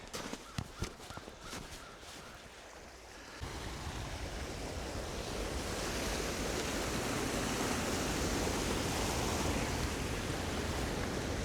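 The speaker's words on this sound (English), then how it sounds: "I've got this fast flowing water that accumulates ice" Steady broadband rush of fast-moving water, loud and continuous, with a few sharp knocks and clicks at the start before the flow swells.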